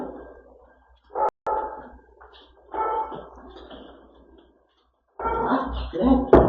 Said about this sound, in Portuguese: Cachorro parece que tá com fome. Só fica latindo.